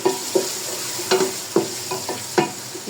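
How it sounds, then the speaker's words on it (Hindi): Spices with garlic-ginger paste frying in a pan for a potato and cauliflower dish, a steady sizzle broken by several sharp spatula scrapes at an even, brisk rhythm. "मसाले को हम अच्छी तरह से भूनेंगे।"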